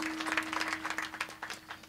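A kirtan audience claps in a brisk, rhythmic burst over a steady sustained drone, moderately loud and close.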